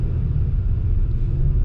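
A big truck passes on a road, a steady low rumble holding loud and close for a short stretch with no talk over it.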